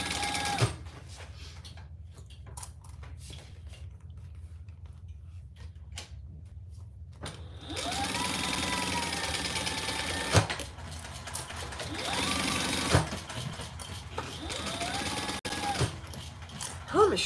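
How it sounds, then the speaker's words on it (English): A semi-industrial sewing machine stitches through thin leopard-print vinyl in close, steady mechanical bursts, running in several long runs with brief pauses between them. "Her machine, it's a semi-industrial, and it's sewing through that just beautifully."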